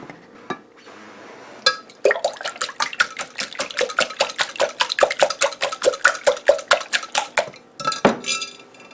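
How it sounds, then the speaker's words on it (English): Six eggs are whisked in a bowl, a fast run of sharp, evenly spaced clinks from the whisk striking the sides, preceded by a few scattered taps and ending in a last knock. "Let's just whisk them up a little bit"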